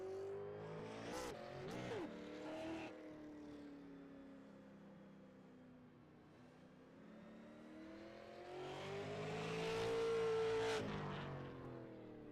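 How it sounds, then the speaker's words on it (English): Race cars circle a bullring oval track during qualifying laps, one engine rising and falling in pitch as it approaches, passes and recedes, then swells loudly again near the end. "Neil Quick just finishes up first lap, 14:65 for the number 2 machine"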